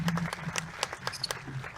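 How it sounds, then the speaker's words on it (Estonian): An audience at a seminar talk gives the departing presenter a brief round of applause: sparse, fairly faint claps scattered over a low room murmur. "Me saadame sulle aplausi ka väikese teele."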